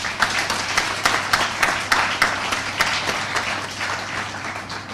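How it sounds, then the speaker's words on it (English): An audience at a student poster competition function gives a round of applause, many hands clapping in a continuous wash with a few sharper individual claps standing out, moderately loud in a hall. "I want you to give the students who did that a round of applause"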